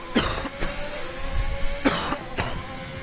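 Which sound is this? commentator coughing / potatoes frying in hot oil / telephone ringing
commentator coughing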